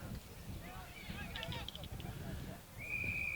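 A referee's whistle at a women's Australian rules football match between the NY Lady Magpies and Boston Lady Demons gives one sustained blast near the end, cutting through a steady wash of outdoor crowd and field noise.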